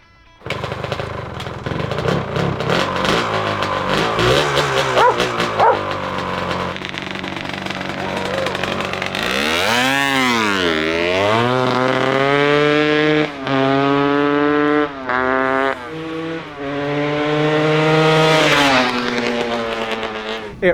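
A restored abandoned dirt bike kicks and clatters, then its engine catches and revs loudly up and down in repeated rising and falling swells, close by and dominating with no talk.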